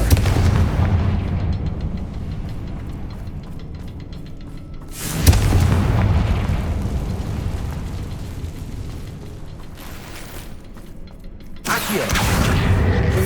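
In the video game Hogwarts Legacy, the Confringo spell sets off a series of deep booming explosions, rumbling blasts recurring over a dense, loud game soundscape.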